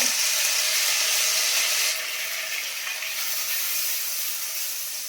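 Green chillies and garlic sizzle in hot oil in a pan, a loud steady hiss that eases slightly after a couple of seconds and continues alone.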